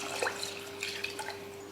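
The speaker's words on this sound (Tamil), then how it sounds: "இப்போ தண்ணி சேர்த்துடலாம்" Water is poured into a pot for cooking rice at home, making intermittent close splashes and drips over a faint steady hum, with no speech.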